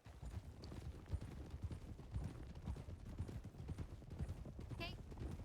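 A horse canters in a video game, its hooves beating a steady, rhythmic clip-clop that runs throughout. Faint voices sound underneath.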